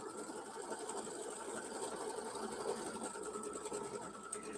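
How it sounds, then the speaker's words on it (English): An embroidery machine stitching out a design runs with a fast, even mechanical whir and rapid needle chatter, steady and moderately loud throughout with no talking. "So now it's stitching out."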